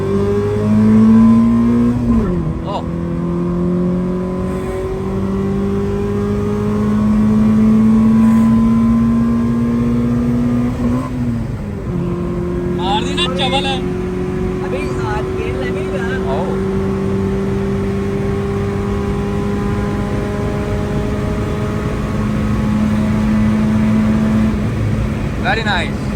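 Engine of a modified Toyota Fortuner with deep dish rims, droning steadily loud and close with rising pitch sweeps as it revs and accelerates through gears, while voices talk over it.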